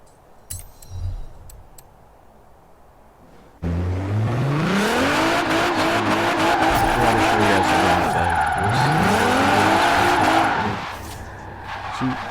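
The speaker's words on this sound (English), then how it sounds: "then we'll be ready to get on drifting" A drift car in Forza Horizon 4 squeals its tires loudly through a long slide, engine revving and pitch bending up and down for several seconds after a quiet start, then easing off.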